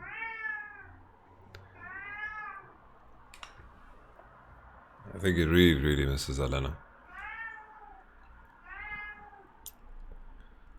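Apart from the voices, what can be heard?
cat meowing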